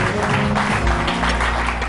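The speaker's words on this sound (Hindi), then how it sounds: "तालियां हो जाएंगी इससे।" A studio audience on a Pakistani morning talk show breaks into brief, dense applause, a steady wash of clapping throughout.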